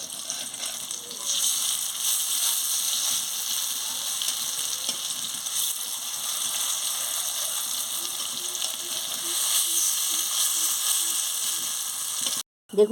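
Sesame fritters (tiler bora) fry in oil with a soft, steady sizzle and faint bubbling, joined by a few light scraping taps before a brief drop to silence at the end.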